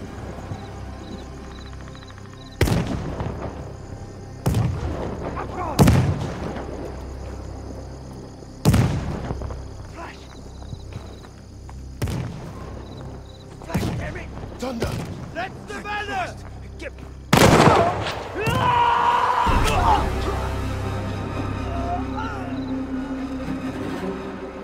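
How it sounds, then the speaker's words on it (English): Artillery fire in the video game Call of Duty: Vanguard, with a series of heavy, sharp blasts spaced a few seconds apart, some followed by rumbling tails, then a denser burst of explosions near the end. "There's the artillery."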